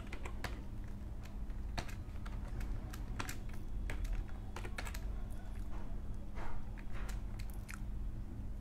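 Keys on a computer keyboard clatter in quick, irregular bursts of clicks as an HTML formula is entered, close and clear with no talking.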